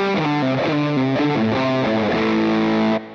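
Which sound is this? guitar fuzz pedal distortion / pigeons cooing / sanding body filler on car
guitar fuzz pedal distortion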